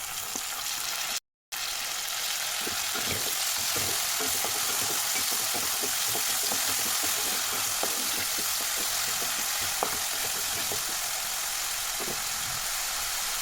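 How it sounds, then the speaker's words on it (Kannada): Chopped tomatoes frying in a pan for dal fry make a loud, steady sizzle that stays close and continuous, with the scrape and clink of stirring now and then. There is a short drop to silence early on and no talking. "ನೋಡಿ, ಇವಾಗ ಫ್ರೈ ಆಗ್ತಾ ಇದೆ. ಆಗಲೇ ಹೆಚ್ಚಿಟ್ಕೊಂಡಂಥ ಟೊಮೆಟೊನ ಆ್ಯಡ್ ಮಾಡ್ತಾಯಿದ್ದೀನಿ."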